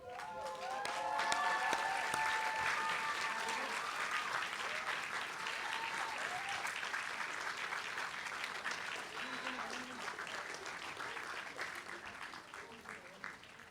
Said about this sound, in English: show your gratitude in the usual way with a thunderous applause